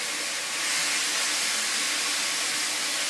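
Meat with onion and garlic frying in a pan gives a steady, loud, close hiss of sizzling fat that holds without pause.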